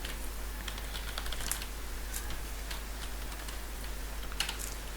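Quiet keystrokes on a computer keyboard while code is typed, scattered irregular clicks over a steady low hum, with no voices.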